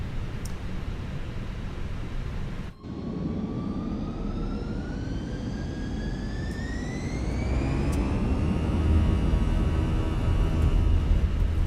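An Airbus A321 takes off from runway 27 right in a flight simulator, its jet engines roaring steadily as a rising whine climbs in pitch and the broadband rumble swells louder toward the end.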